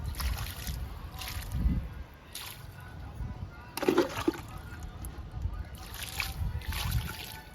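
Thick homemade liquid fertilizer poured onto potted lily and kanakambaram plants, giving intermittent sloshing and splashing pours at close range, with quiet gaps between them.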